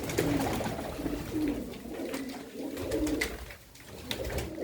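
A Chinese pigeon with white eyes coos in low, repeated throaty phrases that run almost continuously and sit close, over a soft background hiss, with no talking.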